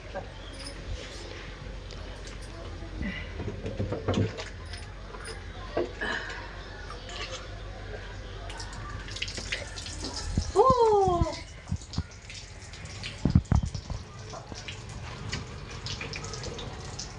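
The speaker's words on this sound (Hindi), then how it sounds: "पानी डाल के देखेंगे उसमें क्या फंसा है, क्या निकल रहा है।" Water is poured into a broken pipe and splashes and trickles out, with intermittent gurgles and a few louder bursts. People talk and exclaim over the flow.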